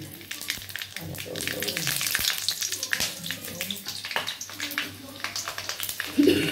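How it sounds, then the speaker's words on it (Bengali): Whole cinnamon, green and black cardamom, cloves, nutmeg and mace fry in oil for a mutton curry, producing a continuous crackling sizzle with bursts of popping while someone talks over it. "দারচিনি, এলাচ, বড় এলাচ, ছোট এলাচ, লবঙ্গ, জায়ফল, জয়িত্রী, এইগুলো সব নিয়ে পরিমাণ মতো নিয়ে ভেজে নিচ্ছি"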